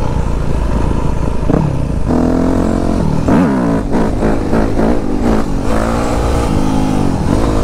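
An enduro motorcycle engine idles roughly, then revs in a series of sharp throttle blips, loud and close, with mechanical clatter between bursts.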